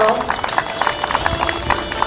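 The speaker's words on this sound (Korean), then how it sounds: "박수 부탁드리겠습니다" Audience applause at the opening ceremony of the 26th Icheon Janghowon peach festival: a dense, steady patter of many hands clapping close by, mixed with crowd noise for a couple of seconds.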